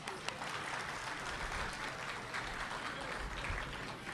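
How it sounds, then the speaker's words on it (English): An audience at a town hall meeting for parents and youth claps in a steady burst of applause, moderately loud and sustained for a few seconds, with faint voices mixed in. "Let's give ourselves a round of applause."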